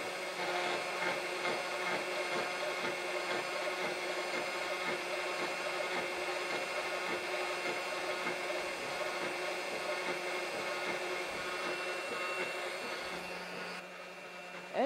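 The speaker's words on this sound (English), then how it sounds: "As you can see, I've started by machining the groove for the nail holes first on this model." A CNC router machines a groove into a wooden board for a hat stand: a loud, steady whining cutter drone runs continuously up close, easing slightly near the end, with no talking.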